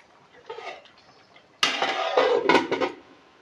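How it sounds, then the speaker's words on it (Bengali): A metal lid set onto a cooking pot of simmering Bengali egg and cauliflower curry gives a sharp clatter with a brief clink at mid-clip, followed by bright rattling and scraping close by. No one speaks. "ঢাকাটা দিয়ে দিই।"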